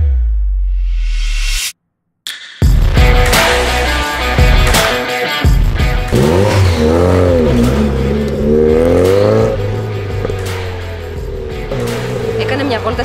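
A car revs hard and accelerates during a skill-driving stunt event ride, its engine whining up and down through loud, close passes. There is a brief dropout, and voices and crowd noise run underneath.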